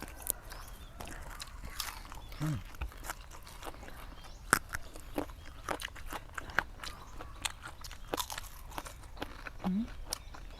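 Someone chews dried mackerel dipped in chili sauce, close crunchy bites and irregular crackling mastication continuing throughout, with occasional soft murmurs.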